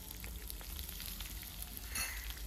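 Onions fry in a pan for a stuffed bitter gourd dish, a dense close sizzle that crackles continuously, with a brief stir-like swell near the end and no talking.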